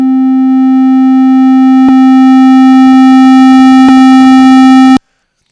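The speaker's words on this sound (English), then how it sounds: "we have the same clean sine wave that we had before" A steady, clean sine tone runs through a waveshaper. Buzzy harmonics and crackly distortion build in toward the end, then the tone cuts off abruptly into silence.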